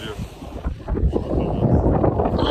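Ferry crossing open water on a 46-minute ride toward an opera house: a steady low rumble of the boat with gusty wind buffeting the microphone, growing slightly louder partway through, no clear speech.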